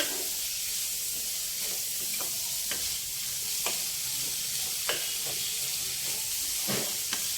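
Onions fry in a pan for semiya pulao, a steady sizzling hiss broken by repeated scraping strokes of a spoon stirring; no one speaks.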